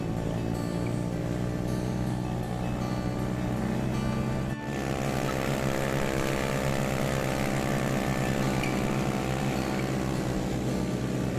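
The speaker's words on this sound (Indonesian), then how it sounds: "semua menggunakan motor Yamaha Jupiter lama, dengan spek mesin yang masih orisinil" An old Yamaha Jupiter motorcycle taxi with its original engine is ridden hard on a mountain trail, giving a continuous loud, buzzing engine drone with strong harmonics. A brief dip comes midway, then the revving builds.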